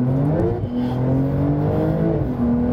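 A Porsche 911 (992) Turbo S accelerates hard from a standstill in a traction test, its engine note rising steadily and loud at close range, with a brief dip at a gear change before it climbs again.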